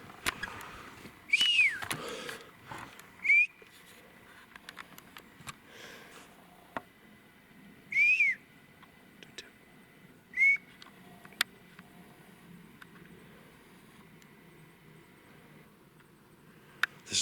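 A person whistles in the woods while climbing, a few short rising whistles spaced several seconds apart, clear and moderately near over quiet surroundings with faint rustles.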